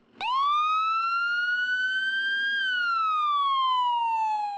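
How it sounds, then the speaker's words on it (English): A single ambulance siren wails close and loud, rising smoothly in pitch, holding, then gliding back down in one long sweep. "we'll respond as quickly as possible with lights and sirens activated."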